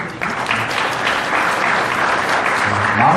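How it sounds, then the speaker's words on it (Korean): Applause from the crowd at a mayor's lecture in Mokpo, a dense, loud, sustained ovation filling the hall without pause. "박수 한번 주시죠."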